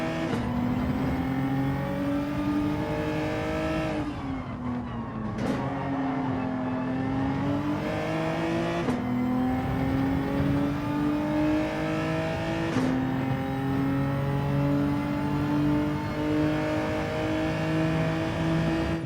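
Race car engines in Gran Turismo 7 during a close race, a steady loud engine drone that rises in pitch through the gears, with brief drops at each shift and another car's engine audible alongside.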